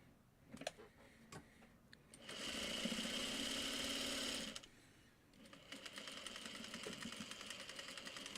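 A sewing machine stitches a quilt block seam with a steady mechanical whir for about two seconds, then stops and starts again for a longer, quieter run, with light ticks and handling sounds in between.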